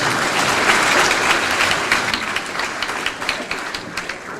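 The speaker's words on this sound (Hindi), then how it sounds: "एक बार इनके लिए तालियां बजाइए।" Audience applause for a poet at a Kanpur event, a dense sustained wash of clapping that gradually thins into separate claps toward the end.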